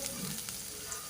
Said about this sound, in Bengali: পেঁয়াজটা কিছুক্ষণ ধরে ভাজা অবধি অপেক্ষা করবো